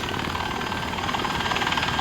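A stolen helicopter in a video game thrums with a loud, steady rotor and engine drone, its fast chopping pulse continuous and close, with no talk over it.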